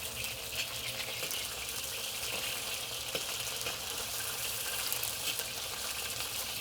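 Beef slices crusted in sesame seeds frying in a wok over slightly lowered heat, a steady, bright sizzle that runs without pause, with faint scrapes and clicks as the pieces are flipped.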